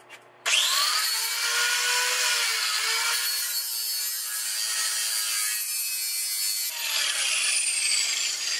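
A power sanding wheel grinds against a metal flywheel in one loud, continuous whine, starting abruptly and shifting pitch slightly as pressure changes.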